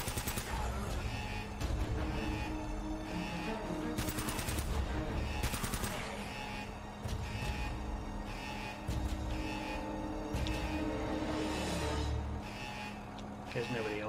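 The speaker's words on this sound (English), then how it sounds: "It should change over to the machine gun automatically" Automatic machine gun fire in the video game Uncharted: Drake's Fortune crackles in repeated rapid bursts over a steady bed of game noise, with sharper loud volleys standing out between the bursts.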